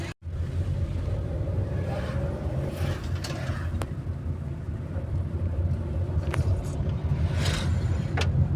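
A car speeds past outside a house terrace, a loud continuous low engine rumble and road roar with brief sharper passing swells and some wind buffeting on the microphone, no speech.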